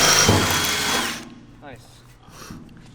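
A power drill bores holes into a Nissan S15 car body, a loud, close whirring burst lasting about a second before it cuts off and voices talk quietly.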